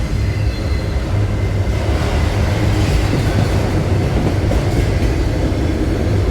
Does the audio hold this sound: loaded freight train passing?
yes